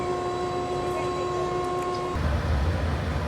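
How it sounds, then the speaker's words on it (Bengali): The Jagannath Express's steady humming tones run for a couple of seconds as it pulls into Balasore station, then cut off and give way to a low, heavy rumble. "ট্রেন এসে থামলো বালেশ্বর"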